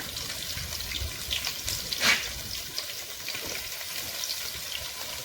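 Shallots and chilli sizzle in hot coconut oil in a pan, a steady close crackling hiss running throughout with a brief louder spatter near the middle.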